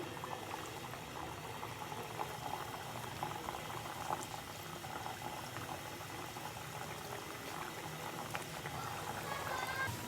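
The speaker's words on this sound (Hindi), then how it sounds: "ये मैंने डाल दिए फ्राई होने के लिए एक एक करके, और अभी ये फ्राई हो रहे हैं" Tikkis deep fry in hot oil, giving a dense, steady bubbling hiss that stays even and fairly faint throughout.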